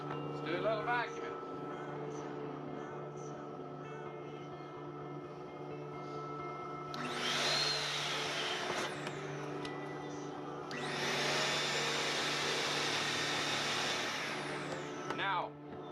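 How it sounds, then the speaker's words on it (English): A vacuum cleaner powered by a 3000-watt portable generator starts up in two bursts, a loud hissing whoosh over the generator's steady humming drone, with short pauses between. "Let's do a little vacuum."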